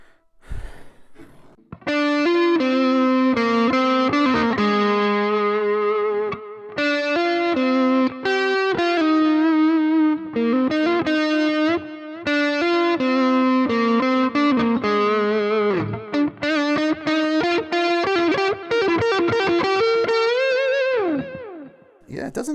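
A Glarry flame-shaped electric guitar on its neck pickup with the tone rolled back slightly plays a heavily distorted lead, with sustained creamy notes, fast runs and bends, loud and alone for about twenty seconds before fading out.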